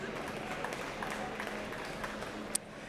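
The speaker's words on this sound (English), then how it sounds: "let's have another round of applause for these great young student achievers" Steady, even applause from the crowd at a hockey game ceremony honoring student achievers during RPI men's hockey against St. Lawrence University, moderately distant and sustained throughout.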